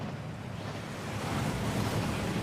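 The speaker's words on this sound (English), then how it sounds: "That waterfall washes away all enchantments." A rushing waterfall in a video game gives a steady, dense roar of falling water that swells slightly louder partway through, with no voices.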